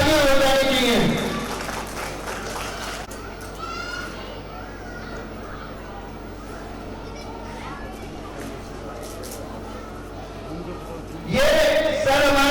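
Audience applause with crowd and children's voices at a prize distribution ceremony, clapping sustained for about ten seconds between a speaker's voice at the start and end.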